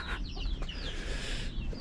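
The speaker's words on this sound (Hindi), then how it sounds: "मुर्गा मुर्गा मुर्गा।" Chickens at a home in a Naga village in Nagaland cluck in a short burst of soft, close calls over a noisy outdoor background, with no talking.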